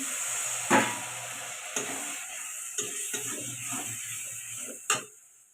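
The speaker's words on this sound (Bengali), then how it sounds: "দেখুন মশলাটা খুব ভালো করে ভাজা হয়ে গেছে তেলও ছড়ে গেছে" Spice paste frying in hot oil in a pan for a tomato-free home curry, with water added, giving a steady close sizzle broken by several sharp clicks and clatters of a utensil against the pan.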